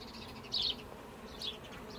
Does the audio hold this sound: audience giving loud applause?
no